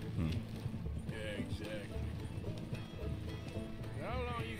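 Horses pull a coach in Red Dead Redemption 2, their hooves clip-clopping in a steady rhythm with wheel rumble and an occasional whinny, while voices talk over the top.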